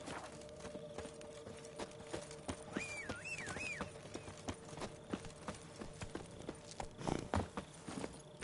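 Horse hooves in The Witcher 3 clip-clop in a steady rhythmic stream of sharp strikes, a brief whinny rising midway, with a louder thump near the end.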